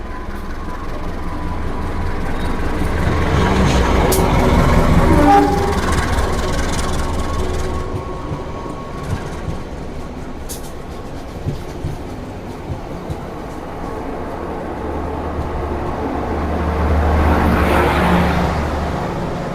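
A passenger train running slowly along a winding track near Bandung, a steady rumbling roll with rail clatter and scattered clicks, swelling louder near the start and again at the end.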